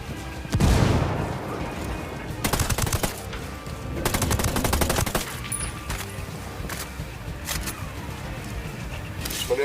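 A frag grenade blast and gunfire in the Ghost Recon Wildlands video game: a heavy burst near the start, then loud, rapid crackling volleys in clusters that fade into lighter scattered shots.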